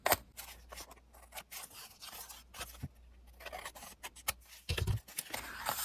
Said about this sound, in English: I'm just going to trim this a little bit.